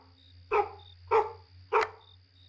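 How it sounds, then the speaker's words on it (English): A dog in an Unreal Engine video game barks three times at even intervals, each sharp and close as if right at the ear, over a steady low electronic hum and a faint background tone. "it just sounds like he's just barking right in my ear"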